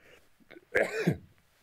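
A man's single sneeze, close and abrupt, a short sharp burst with a quick tail, preceded by faint breathing.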